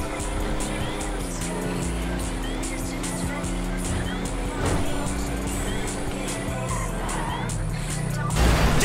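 A car in Grand Theft Auto V is driven recklessly, its engine roaring steadily and its tires squealing in thin streaks over a dense, busy game mix, with a louder burst near the end. Voices can be heard underneath.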